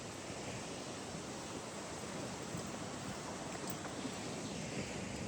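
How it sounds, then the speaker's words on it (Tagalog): Wind blows steadily outdoors on a walk, a continuous broadband rushing roar with no pauses and no voices. "Mahangin."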